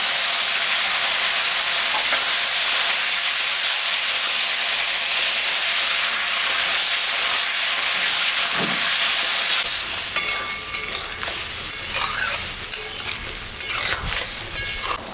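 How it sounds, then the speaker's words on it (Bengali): Ground ginger, cumin, coriander and dried chilli paste sautéing in a pan for a potato and pomfret fish curry, a steady close sizzle and hiss with occasional stirring scrapes, growing patchier toward the end. "মশলাটা কষানো হয়ে গেছে"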